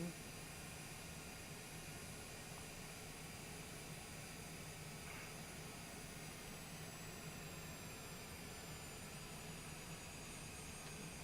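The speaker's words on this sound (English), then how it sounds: "As I'm flying my multi-billion-dollar jet." Steady, faint jet engine whine from a jet in Microsoft Flight Simulator, a continuous even drone with thin high tones running throughout.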